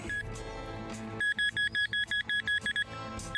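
A handheld pinpointer metal detector used while digging out buried treasure through rubble, giving a long tone and then a quick run of about a dozen evenly spaced electronic beeps, no speech.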